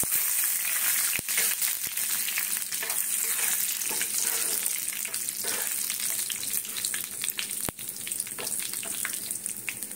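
Cashews and raisins frying in hot oil with bay leaf and garam masala for fried rice: a loud, continuous close sizzle broken by scraping stirs and a couple of sharp spoon knocks against the pan, with no voices.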